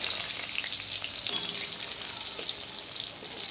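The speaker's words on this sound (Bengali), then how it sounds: "তো লঙ্কাটা ভেজে নিয়েছি, 4টে লঙ্কা।" Four thick green chillies fry in a pan with a close, steady crackling sizzle that is fairly loud and unbroken, with a few faint knocks and no speech.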